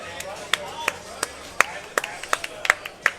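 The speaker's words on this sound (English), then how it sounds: "I'll clap for him all the way up here." A single person claps hands about a dozen times in a quick, slightly uneven rhythm during a pinball league division final at an arcade, with crisp, fairly close claps over low room noise and talk.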